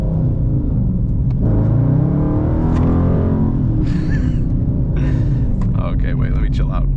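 A 2019 Dodge Charger R/T engine rumbles and revs loudly while accelerating on a highway, a steady low roar heard from inside the car with a voice talking over it.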